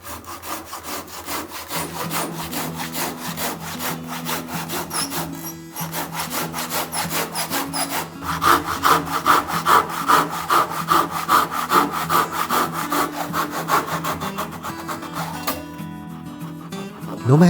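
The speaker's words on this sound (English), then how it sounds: "I'll chisel 15 to 20 millimeters into the pillar and insert the floorboard" A hand saw cuts into a knot-free cypress pillar for a kubikiri floorboard joint, giving steady rhythmic back-and-forth rasping strokes, close and continuous, with a brief pause partway through.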